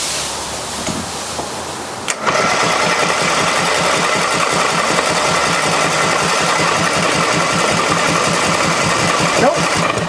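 An old tractor engine cranks over and over, trying to start with the choke worked by hand, giving a loud, steady rhythmic chugging from the starter that runs on without catching.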